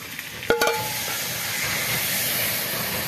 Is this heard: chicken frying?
yes